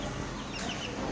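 Chickens cluck continuously nearby among grown chicks and farm animals, a dense, steady barnyard chatter with no pauses.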